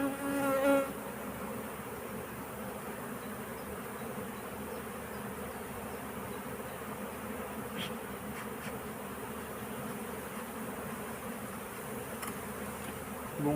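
Dense, continuous buzzing of bees around a crowded, agitated hive colony, a steady close insect drone with no talk.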